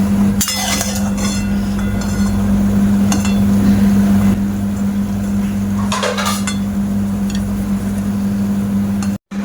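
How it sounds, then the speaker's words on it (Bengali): Crisp fried nimki lifted out of a frying pan of hot oil, sharp metallic scrapes and clinks of a utensil against the pan over a steady sizzle and hum, with no talk. "এবার আমি তুলে নেব নিমকিগুলো।"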